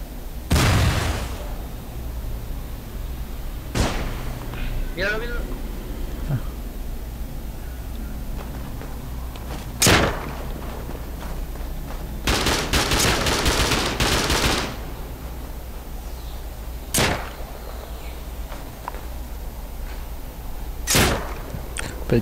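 Gunfire from the video game Rust comes as scattered sharp shots and short bursts, with one sustained rapid volley in the middle, over a low steady background hum.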